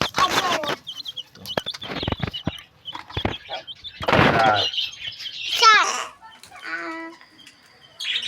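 Pet chickens kept in a backyard cage cluck at dusk in short, close bursts, with other birds chirping in between and some brief quiet gaps.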